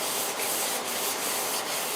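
Steady abrasive rubbing of sandpaper on the painted surface of a Mercedes SLK55 AMG spoiler, a continuous close scratching hiss with faint rhythmic strokes and no talking.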